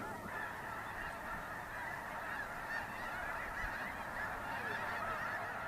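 A dense chorus of snow geese honks continuously, a huge flock of over 100,000 birds calling all at once with no pauses, in the Missouri Bootheel in March.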